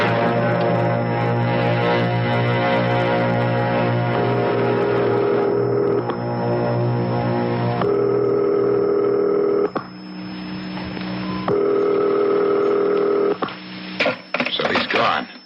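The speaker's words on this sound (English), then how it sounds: "Dial. I'll call his private number." Tones of a telephone being dialed in an old-time radio mystery drama, a sequence of loud pitched beeps changing step by step, with no voices over them.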